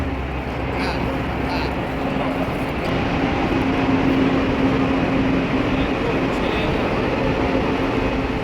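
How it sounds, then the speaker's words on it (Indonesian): Steady interior rumble of a high-speed train bound for Mecca, a continuous low hum and broadband roar with faint voices in the background. "Sekarang kita menuju kereta cepat menuju Mekah."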